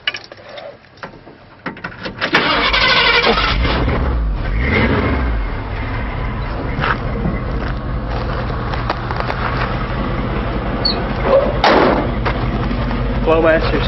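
A 1976 Ford F100 short-bed truck with Flowmaster exhaust cranks after a few quiet knocks, then fires up loudly and settles into a steady, rumbling idle close by.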